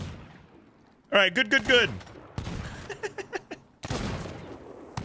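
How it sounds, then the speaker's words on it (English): Gunfire in Sea of Thieves: bursts of shots crackle in several quick volleys separated by short gaps, with a person briefly talking between them. "Oh my gosh, there's so many bullets flying!"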